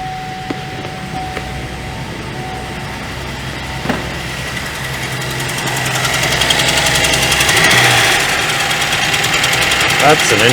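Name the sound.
2012 Chevrolet Traverse engine running with misfire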